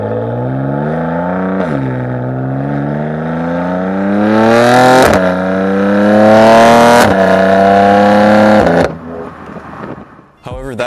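A BMW S55 engine revs repeatedly through its exhaust, loud raspy pulls that climb in pitch, drop back and rise again, with an aggressive snarl close to the listener before settling toward idle.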